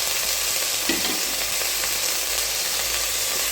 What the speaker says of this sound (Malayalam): വെജിറ്റബിൾസ് ഇതിലിട്ട് ഒരു മിനിറ്റ് നന്നായി വഴറ്റി കൊടുക്കുക